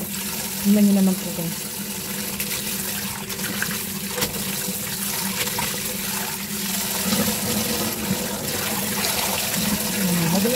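Tap water runs steadily into a kitchen sink while spinach is rinsed, a constant close splashing rush throughout, with someone talking over it.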